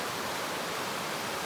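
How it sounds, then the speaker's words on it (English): Fast-running stream water rushing over slick rocks at an ankle-deep crossing, a steady dense broadband wash close by with no voices. "The water is running fast."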